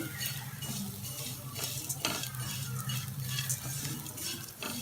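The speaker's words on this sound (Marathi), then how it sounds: "सारखं असं हलवत राहायचं नाही तर ते सुकट एकदम असं लहान असल्यामुळं करपतं" Small dried sukat fish being stirred as they roast in a pan over high heat, with close scraping and clinking of a utensil against the pan over a steady dry sizzle.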